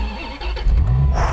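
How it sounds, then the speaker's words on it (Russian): A Dodge Viper engine starting, a short cranking whir from the starter followed by the motor catching and rising into a loud, deep rumble, close up. "Давайте разбудим этот знаменитый мотор"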